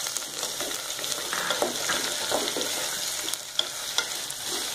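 Onions and green chillies sauté in a pan for bakery-style bread toast, giving a steady close sizzle broken by soft, irregular stirring scrapes, with no voices.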